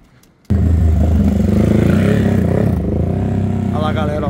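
A motorcycle with a 70cc injected engine bursts into a loud, close rev after a brief quiet moment, holding a raspy high-pitched roar that eases slightly toward the end while people talk nearby.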